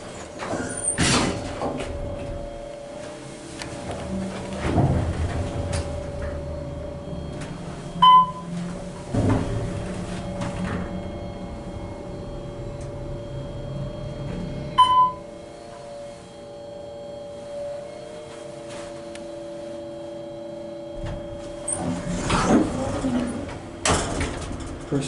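An Otis Series 1 hydraulic elevator at a hotel runs its motor with a steady low hum and whine throughout, with door clunks and a couple of sharp chimes or thumps near the middle and a rising rumble toward the end, and no talking.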